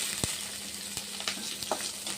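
Curry leaves and mint leaves crackle and sizzle steadily in hot frying oil for a Bengali ghugni, with a few sharper pops and spatters breaking through the close, continuous hiss.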